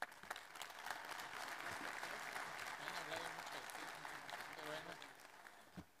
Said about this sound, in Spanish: Demos un fuerte aplauso al maestro Andrés Rode Ponce.